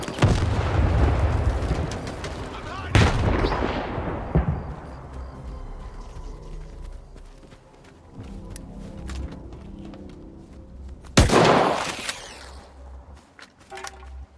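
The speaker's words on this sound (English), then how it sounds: "I think one of my grenades hit all three of them" Grenade blasts and gunfire in the video game Stalker 2: a heavy boom opens, a second blast near three seconds, scattered shots through a rumbling tail, then another loud explosion near eleven seconds.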